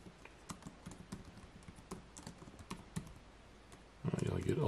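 Fingers tap on a computer keyboard in a quiet room, making soft, irregular clicks. A louder burst of noise cuts in at the very end.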